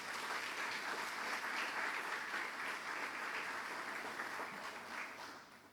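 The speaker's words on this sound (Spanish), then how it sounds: "Dale un aplauso al Señor si lo cree." A church congregation claps steadily through a Sunday worship service, a dense, sustained roomful of applause with no break from start to finish.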